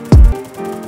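A single gunshot from the Free Fire battle royale game, one short heavy boom that drops quickly into a low rumble, with no talk around it.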